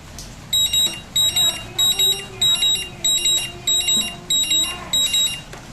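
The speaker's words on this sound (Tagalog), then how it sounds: "kapag full charge na siya, magbibip tong charger" A battery charger for a Toyota Corolla 4AGE 20V beeps in loud, evenly spaced pairs of high electronic tones repeating about ten times, with talk faintly underneath.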